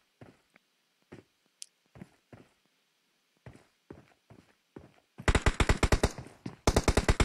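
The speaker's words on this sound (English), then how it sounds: "So they're shooting at FMJ on the right, and War in front." Gunshots in a video game battle: scattered single shots and footstep-like taps give way to two loud, rapid bursts of automatic fire near the end, with no voices.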